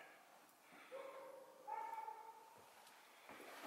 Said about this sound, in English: Now we hear dogs.